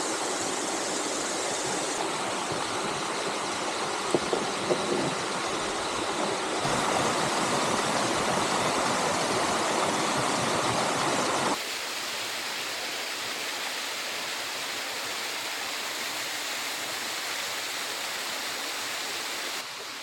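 Rushing water pours continuously, a dense steady roar of a waterfall that shifts in tone partway through, with no voices.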